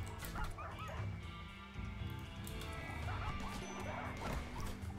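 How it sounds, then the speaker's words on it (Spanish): Many dogs barking in the video game RimWorld, a pack of Labradors giving repeated overlapping barks and yips, loud and continuous over a low game background. "Son muchos perros, ¿eh?"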